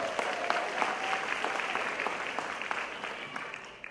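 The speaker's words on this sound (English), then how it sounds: "Please give her a round of applause." An audience at a film festival applauds in a steady wash of clapping, moderately loud and fairly close, tapering slightly toward the end with no voices over it.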